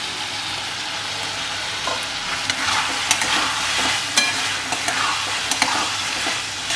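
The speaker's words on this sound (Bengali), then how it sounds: "এবার ভালো করে নাড়িয়ে চাড়িয়ে আমি এটাকে কষিয়ে নেব।" Spice masala with chopped tomato fries in oil under a steady, close sizzle, punctuated by irregular clicks and scrapes of a spoon stirring the pan.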